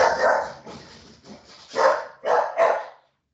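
A dog barks indoors, several loud, close woofs in an uneven burst. The last three come in quick succession before it falls silent.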